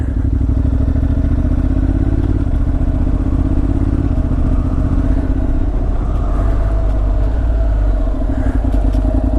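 A 2016 Honda NC700X with automatic shifting runs on a test ride, its engine a loud, steady, close drone that shifts slightly in pitch partway through.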